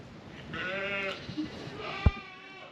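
A sheep bleats a couple of times, wavering cries nearby, followed by a sharp knock.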